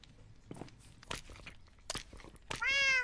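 A cat in Minecraft: soft crunching and shuffling noises, then a clear, drawn-out meow at the end, close and fairly loud.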